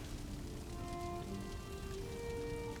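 Steady rain in the video game Valheim hisses evenly throughout, with faint sustained musical tones drifting over it and no talk.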